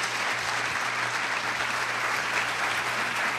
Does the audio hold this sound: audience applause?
yes